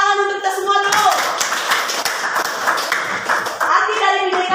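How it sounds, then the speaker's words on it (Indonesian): A classroom group claps hands together in a brisk burst of clapping lasting a few seconds, with a voice speaking just before and right after. "Tepuk tangan untuk kita semua dulu."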